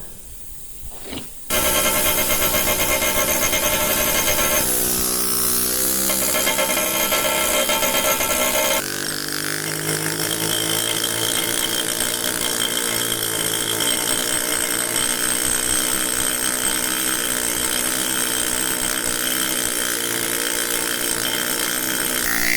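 Steady, continuous hammering of a small bush hammer dressing granite, loud and close, a dense rapid clatter with a brief pause midway, and no talking.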